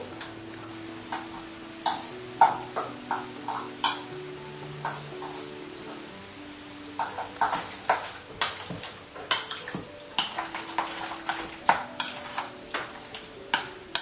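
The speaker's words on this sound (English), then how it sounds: "So just give this a stir and see how it's looking" A spoon stirs about 300 grams of natural yogurt in a tub for tzatziki, making soft repeated scraping and tapping strokes in uneven bursts. Quiet background music sits underneath.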